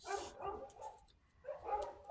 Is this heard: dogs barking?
yes